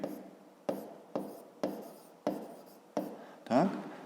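Pen writing in a school exercise book during a fifth-grade maths lesson, six short scratchy strokes in an even rhythm, close and quiet, with no talking.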